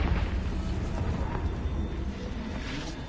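A Confringo blasting spell explodes during play in Hogwarts Legacy, a continuous rumbling, roaring blast that fills the whole stretch and eases slightly toward the end, with faint voices in the mix.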